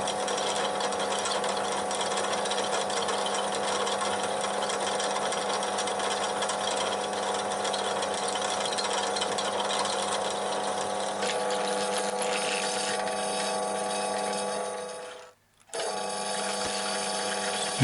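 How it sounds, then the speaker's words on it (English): A 4mm drill boring holes in mild steel in a home workshop, a steady droning motor whine with a constant tonal hum that runs unbroken before cutting out briefly near the end and restarting. "you use a 4mm drill to open up the holes further whilst maintaining drilling accuracy and hole smoothness"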